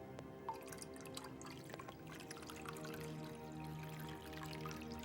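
Acid fizzes steadily as it dissolves limestone, making a soft continuous bubbling with scattered tiny pops and drips, heard close and alone.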